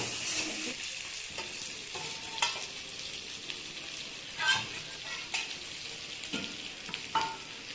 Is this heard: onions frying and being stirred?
yes